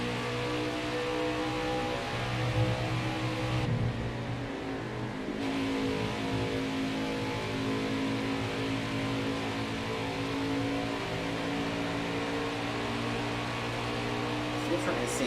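A race truck's engine drones at a high, steady pitch in the racing video game Nascar Heat 5 at Pocono, a continuous strained whine with little change in revs, while a person talks over it.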